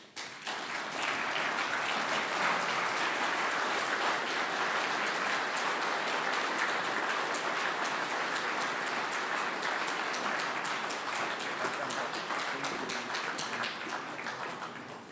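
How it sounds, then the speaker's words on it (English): Audience at an annual general members meeting applauding a guest speaker, a dense, even wash of clapping that holds steady for about fifteen seconds without letting up. "Please join me as we stand and applaud and welcome to the podium our guest speaker"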